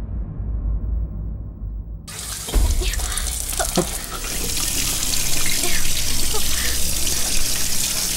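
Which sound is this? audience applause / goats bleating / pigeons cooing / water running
water running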